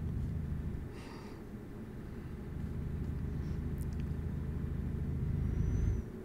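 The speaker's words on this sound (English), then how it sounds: "I can turn the truck noise up if you want." A truck engine in a trucking video game rumbles low and steady throughout, fairly quiet, with no talk over it.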